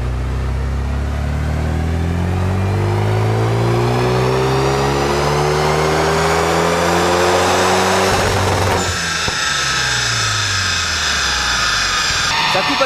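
A Renault Megane 3 RS engine revving hard on a dyno, a loud, continuous rising drone that climbs steadily and then abruptly cuts out near 6000 rpm before the pitch drops away.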